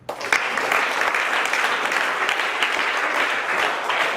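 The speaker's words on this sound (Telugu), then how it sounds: "కానీ క్లాప్స్ ఇవ్వండి" Audience applause, a steady crowd of clapping hands sustained throughout, fairly close and even in loudness.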